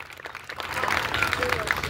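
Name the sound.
audience applauding for the organisers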